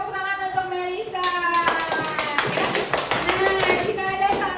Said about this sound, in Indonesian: Kasih tepuk tangan untuk Melisa.